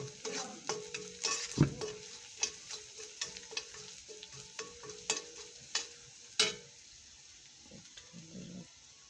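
Chickpeas with turmeric are stirred in a frying pan, giving a soft sizzle under repeated close scraping and clattering strokes at an irregular rhythm, with no talking.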